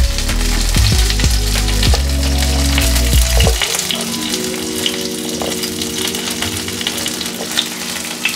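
Onions and green chillies sizzle loudly in hot oil over a high gas flame, with a steady crackling hiss and a few clanks of stirring, no voices.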